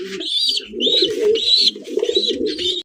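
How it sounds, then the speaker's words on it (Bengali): A pair of fancy pigeons coo steadily and close by, a low throaty burbling repeated in rhythmic phrases with a brighter upper tone, and nobody speaks. "বাচ্চা সহ দেখেন কত সুন্দর এক জোড়া কবুতর"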